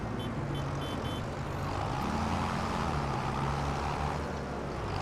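A tractor with a large exhaust pipe in Farming Simulator 25 on the Chipping Norton map drones with a steady low engine rumble, with brief faint beeps early on.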